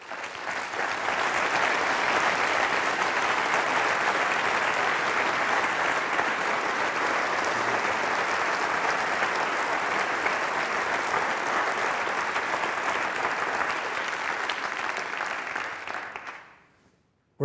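Sustained, loud audience applause fills a university lecture hall after a speaker's introduction, a steady dense roar of many hands clapping that holds evenly for about sixteen seconds before fading out quickly at the end.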